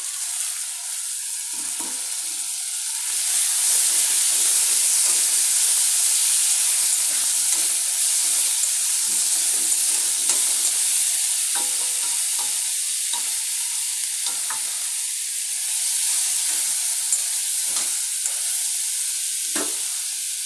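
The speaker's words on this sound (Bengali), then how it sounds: "এখানে একটু ভেজে দিচ্ছি" Spices and potatoes frying in a hot pan for an egg dish, a steady loud sizzle with a surge after the first few seconds, broken by scattered scraping stirs, with no talk.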